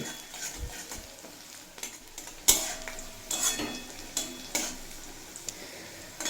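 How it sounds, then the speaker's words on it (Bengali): Onion, garlic and chilli frying in a pan, a steady sizzle broken by sharp metallic clinks and scrapes of a spatula stirring against the pan, close up and without talk. "পেঁয়াজ রসুন লঙ্কা খুব ভালোভাবে ভেজে নেওয়া হয়ে গেছে"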